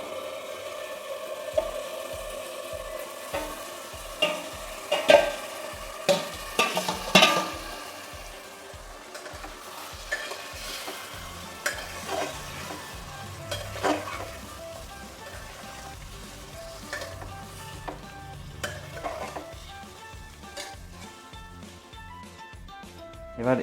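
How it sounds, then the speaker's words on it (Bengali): Marinated mutton dropped into a pan of browned onions for a black mutton curry, a soft steady sizzle with rhythmic scraping and stirring knocks throughout, fairly quiet and close. "এবার এতে আমরা ম্যারিনেট করা মাংসটাকে দিয়ে দেবো।"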